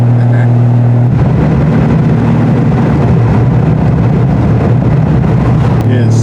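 A Triumph TR6 sports car out on the road, its engine a loud, constant droning rumble heard from inside the car, with steady wind and road noise and no clear pauses.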